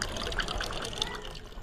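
Water trickles and splashes as pots are filled at a village water source during a shortage, a continuous close pouring sound with faint voices in the background.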